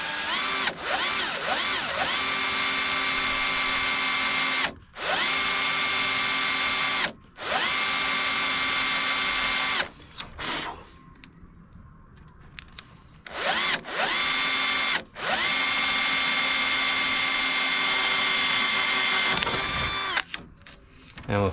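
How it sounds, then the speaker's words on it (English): A power drill bores holes through a fibreglass front bumper for a 1992 Nissan 300ZX, whining loudly in long sustained runs broken by several short pauses, with a quieter stretch midway before drilling resumes. "we're going to drill those with a smaller drill bit and then a bigger one"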